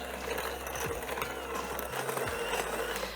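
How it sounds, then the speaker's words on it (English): A hand mixer creams butter and sugar with vanilla extract for a butter pecan bundt cake batter, giving a steady, close mechanical whir with a gritty rattle that runs unbroken through the whole stretch. "Take a hand mixer and just blend that together until it's nice and creamy."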